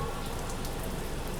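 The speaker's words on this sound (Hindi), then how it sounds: "बारिश जो है तेज़ हो चुकी है भाई सतना जंक्शन पर" Heavy rain pours steadily at Satna Junction railway station in Madhya Pradesh, a dense, continuous hiss of drops drumming on surfaces, unbroken and fairly loud throughout with no voices.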